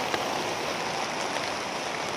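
Heavy rain with large drops falls steadily, a dense broadband patter close by on surfaces, with no voices heard.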